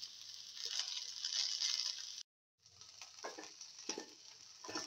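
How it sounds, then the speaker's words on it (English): A tomato mixture sizzling in a pressure cooker pan, a steady close hiss of frying that briefly drops to silence, then resumes with soft stirring and scraping under the sizzle. "Transfer these contents into the pressure cooker pan."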